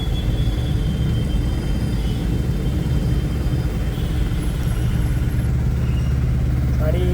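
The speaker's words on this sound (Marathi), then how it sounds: "आणि पावसामुळे जरा ट्रॅफिक जामच आहे, सगळीकडे जाम झालेली ट्रॅफिक बघा." Rain-soaked road traffic crawls in a jam near a tunnel, a steady loud rumble of idling car and motorcycle engines filling the scene without a break.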